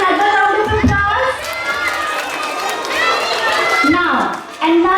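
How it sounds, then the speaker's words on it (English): Children at a Christmas school assembly cheer and shout loudly, an excited crowd of young voices with clapping mixed in, rising and falling across the moment before a final burst. "Can we give him another round of applause?"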